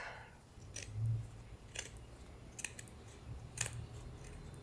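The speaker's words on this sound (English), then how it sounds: "I'm gonna have to cut off the bottom too." Scissors snipping through a fabric pillowcase, a few crisp separate cuts spaced about a second apart, close and quiet against a low background hum.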